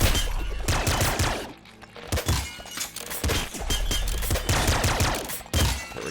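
Rapid gunfire in the top-down shooter Nuclear Throne crackles in dense bursts, with sharp shattering impacts and brief pauses between volleys. It sounds loud and punchy with no voice over it.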